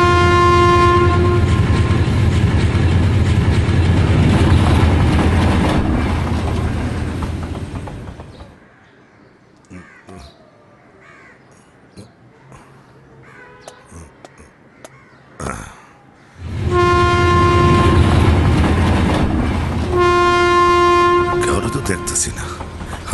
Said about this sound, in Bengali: ওই যে ট্রেন এসে পড়ছে।